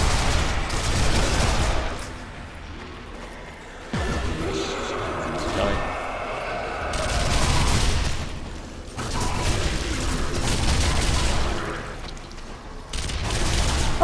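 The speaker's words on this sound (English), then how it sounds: "Just machine gun them all." Machine gun fire from the zombie shooter game Sniper Elite Nazi Zombie Army: loud bursts of rapid gunfire and booms come in waves, with short lulls, alongside players talking.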